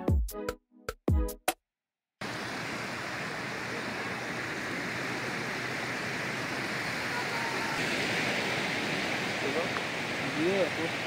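Sea waves washing onto the shore at Kuakata beach, a broad continuous roar of surf that swells slightly later on, preceded by a few seconds of voices and a brief silence.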